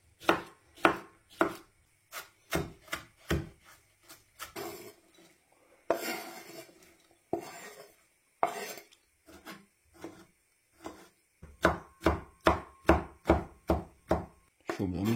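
Spring onion is chopped finely with a knife on a board in sharp, rapid bursts of knocking strokes, with brief pauses between runs, close and clear.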